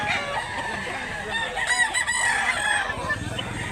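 A dark-tailed rooster, about a year old, crows at a farm in Mantalungon, Barili, Cebu, one long strained call rising and falling over roughly three seconds with other fowl faintly around it.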